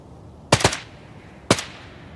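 Arena Breakout: Infinite gunfire rings out as two quick close shots, followed a second later by a single sharp shot, each with a short fading tail over a quiet background.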